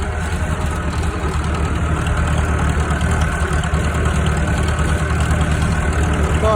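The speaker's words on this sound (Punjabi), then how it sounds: "ਉਹ ਲੱਗਾ ਟਰੈਕਟਰ ਲੈਵਲ ਵਾਲਾ" A tractor pulls a land leveler across a field, its heavy engine holding a loud, even, low drone throughout, with no clear speech over it.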